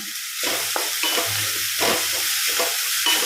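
Garam masala sautéing in a pan for a masala bun filling: a constant close sizzle broken by repeated scraping stirs, with a faint low hum underneath and no voices.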